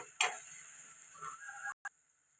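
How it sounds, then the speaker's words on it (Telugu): Tomatoes frying and being stirred in a pan for fish curry: a soft, steady sizzle broken by brief scraping stirs and a couple of sharp clinks, quiet and close, with no talking. "టమాటా కూడా పచ్చివాసన పోయేదాకా ఫ్రై చేసుకుందాం."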